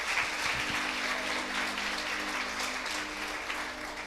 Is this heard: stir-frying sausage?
no